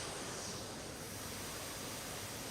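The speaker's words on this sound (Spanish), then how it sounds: "Nos encontramos en la cascada escondida," Steady broadband rush of water at a hidden waterfall, a continuous roaring wash with no breaks and no voices.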